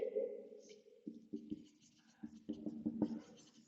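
Pen writing by hand on paper while working a class 7 maths exercise, quiet close-up scratching strokes in short bursts with small pauses, faint and intimate.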